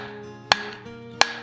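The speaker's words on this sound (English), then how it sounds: "Do a couple hammer blows and then I rotate it, quarter turn" Two sharp hammer blows ring out about 0.7 seconds apart while steel is forged into the square tapered point of a vulture beak, each strike a bright metallic clang that decays quickly.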